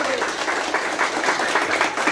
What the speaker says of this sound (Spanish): ¿Y no creen que se merecen un fuerte aplauso ellos? Claro. ¡Fuerte aplauso!